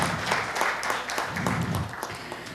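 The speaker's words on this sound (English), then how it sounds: "Let us please welcome with a huge round of applause Shri Manish Shah sir." Audience applause welcoming a speaker at a tax conclave session, a steady wash of many hands clapping at moderate loudness for the whole stretch, with no voices on top.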